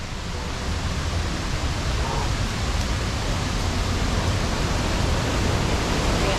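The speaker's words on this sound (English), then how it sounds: "right over here is where the water goes over the dam, and that's a pretty cool little waterfall" Water pouring over a dam as a small waterfall at Mammoth Spring State Park, Arkansas, a steady, dense broadband rush that is continuous and fairly close, with no voices.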